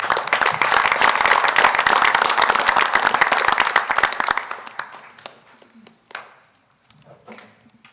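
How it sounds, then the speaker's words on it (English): A crowd at a Mayor's Night Out community event in Hammond applauds to welcome the CEO of the Northwest Indiana YMCA, with dense, loud clapping for about four seconds that quickly thins to a few scattered claps. "So if you please give a warm welcome to the CEO of Northwest Indiana YMCA, Jay Buckmaster, everybody."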